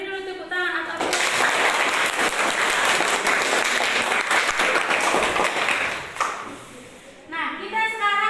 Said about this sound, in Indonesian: beri dulu tepuk tangan